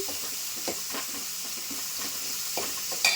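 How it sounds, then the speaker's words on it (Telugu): Onion, green chilli and curry leaves fry in oil with a steady soft sizzle and hiss, broken by a few light stirring scrapes, close and even throughout. "ఉల్లిపాయ, పచ్చిమిర్చి, కరివేపాకు కొంచెం ఆయిల్లో కొంచెం వేగాలండి"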